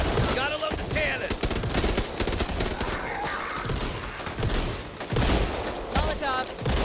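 A cannon fires in the zombie shooter Back 4 Blood, heard as dense, rapid booming blasts and crackling gunfire that run on loudly and almost without a break through a chaotic firefight.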